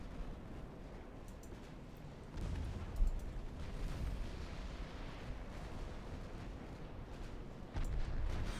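Secondary naval guns firing in the game Ultimate Admiral Dreadnoughts, low distant booms and rumbling blasts over a continuous battle drone, with one sharper thump near the middle and another surge near the end.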